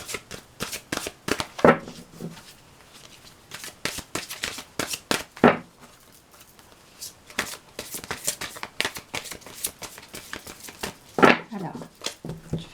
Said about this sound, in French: Alors, je vais faire la coupe déjà avec ce jeu-là.